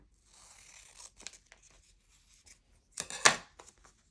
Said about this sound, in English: I'm going to cut this just a little bit more around the border